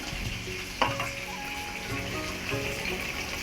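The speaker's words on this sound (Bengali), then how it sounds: "মুরলি মাছটা ভালো করে কিন্তু লঙ্কা হলুদ তারপরে একটু লবণ মাখিয়ে কিন্তু ভালো করে ভেজে নিচ্ছি" Murli fish coated in chili, turmeric and salt frying in a pan, giving a steady close-up sizzle with light crackling and a brief clatter near the start.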